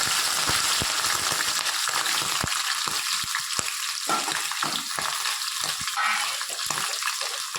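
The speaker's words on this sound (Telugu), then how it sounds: "నూనె కాగిన తర్వాత ప్రాన్స్ వేసుకోవాలి." Prawns frying in hot oil for a Telugu prawn curry, a steady dense sizzle with crackling pops and occasional stirring scrapes, close and continuous with no talk.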